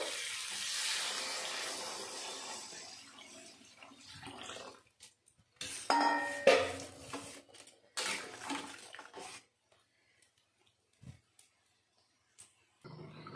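Water poured into a pan of fried puti fish and pumpkin sets off a burst of hissing sizzle that gradually dies down, followed by quieter clinks and stirring sounds in a home kitchen.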